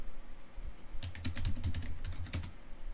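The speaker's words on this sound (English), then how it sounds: "I just type in PowerShell into the address bar up here." Quick typing on a computer keyboard, a short burst of light clicking keystrokes lasting about a second and a half over quiet room noise, with no voices.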